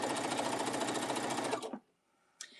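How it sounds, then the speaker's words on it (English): A sewing machine stitching a seam runs fast and steady for about a second and a half, then stops abruptly, followed by a brief faint click. "we're just rotating and continuing to sew that seam"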